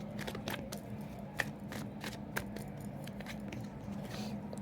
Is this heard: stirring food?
no